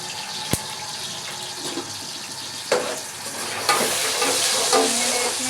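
Onions fry with a steady sizzle in a pot, joined by scraping stir strokes and a sharp clink near the start. The hiss grows louder toward the end, and a little running water can be heard. No one speaks.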